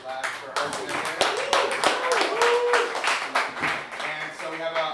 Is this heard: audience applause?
yes